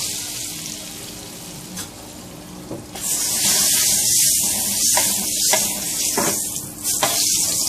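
Lobsters grill in garlic butter, a steady sizzle that swells loudly after a few seconds, with scattered clinks and scrapes of utensils against the pan.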